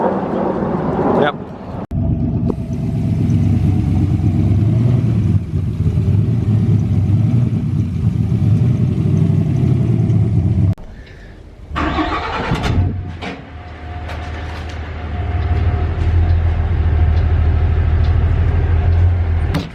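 A turbocharged Spec S car engine rumbles steadily at close range, holding a loud low idle, then drops briefly before rising again into a stronger rev, with voices talking nearby in a yard.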